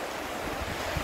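Sea waves wash against the curved concrete sea wall at Lyme Regis in a brief rushing surge, mixed with wind buffeting the microphone.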